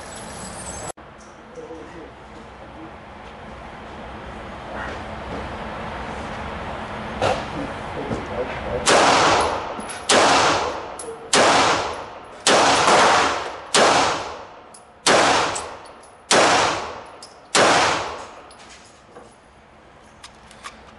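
Walther P1 pistol fired at an indoor shooting range: after a first shot, a steady series of about nine loud, sharp reports spaced roughly a second apart, each ringing off the range walls.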